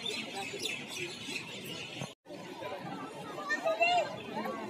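Many birds chirp and call from the trees at India Gate in Delhi, a dense outdoor chorus mixed with crowd chatter and nearby voices, with one brief drop in sound midway.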